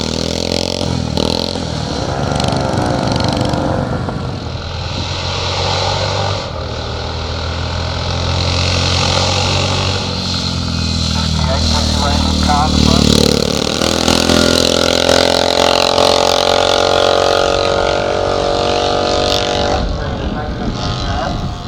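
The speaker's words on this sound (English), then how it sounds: "This is Mark Stoker on his Velocet 350." A Velocette 350 classic motorcycle at the 2021 Barbon hillclimb, its engine droning steadily and loudly throughout with rising revs, while a commentator talks over it.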